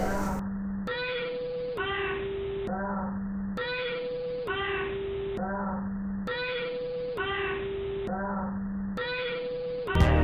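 A pet cat meows repeatedly and close by, about nine drawn-out, pitched cries in a steady rhythm, one after another, with little pause between them.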